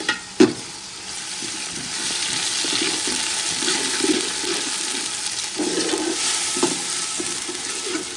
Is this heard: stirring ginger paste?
yes